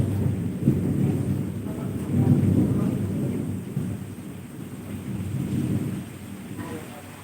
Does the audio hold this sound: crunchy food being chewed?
no